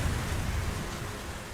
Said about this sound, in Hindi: तभी बारिश और तेज हो जाती है।